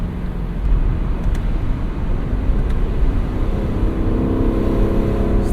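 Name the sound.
Lexus LC500 convertible engine during a gear shift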